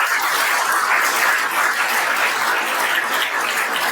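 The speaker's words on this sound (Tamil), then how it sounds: "நீங்கள் மாணவர்கள் மட்டும் மிகப்பெரிய கைத்தட்டு கொடுங்க." Loud, dense applause from a crowd of students at a school induction event, steady and sustained throughout with no talk over it.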